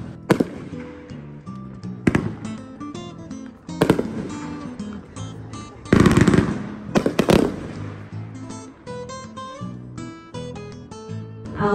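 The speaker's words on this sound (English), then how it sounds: "Golden pink fireworks." Fireworks burst repeatedly at a public display, each sharp crack or boom followed by crackling. Music plays throughout beneath the irregular explosions.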